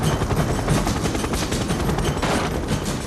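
Gunfire in a 1996 action movie, a loud, dense, continuous barrage of rapid shots blending into a roaring wash throughout.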